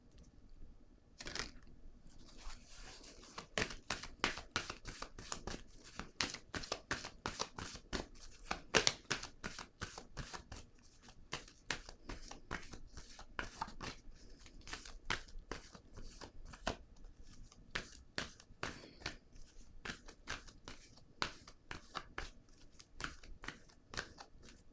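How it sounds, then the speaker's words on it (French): Tarot cards shuffled and laid down, a long series of quick, crisp riffling clicks and taps at a close but quiet level, with uneven bursts continuing throughout and no talking. "Je vais déposer une carte ici."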